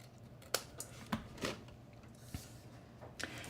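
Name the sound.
scissors cutting paper for a gift bag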